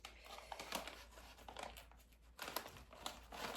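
A plastic package from a clothing and accessories haul being opened by hand, with faint, intermittent crinkling and rustling of the wrapping at close range, no talking.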